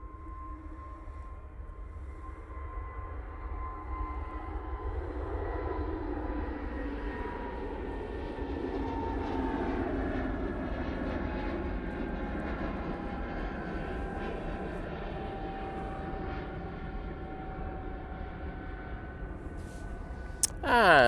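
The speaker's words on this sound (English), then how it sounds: "Mighty Orange is off to Faro using their A320neo for that flight" An easyJet Airbus A320neo departs Manchester Airport for Faro, its jet engines a sustained roar with shifting whining tones that swell and slowly fade, a brief close knock right at the end.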